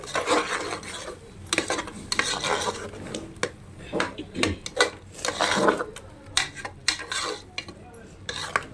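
Ground raw tomato paste being sautéed and stirred in a pan for a chana masala gravy, with clinks and scrapes of a spoon against metal that come in irregular bursts, moderately close.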